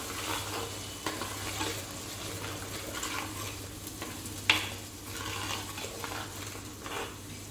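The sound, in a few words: tomato paste frying and being stirred in a pan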